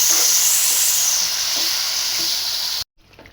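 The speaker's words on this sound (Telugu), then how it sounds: "నెక్స్ట్ కొంచెం అల్లం పేస్ట్ వేసుకోవాలండి. ఒకసారి మంచిగా కలుపుకోవాలండి." Chicken pieces and ginger paste stirred in a hot frying pan give off a loud, steady sizzle with scraping, which cuts off abruptly near the end and leaves faint quiet.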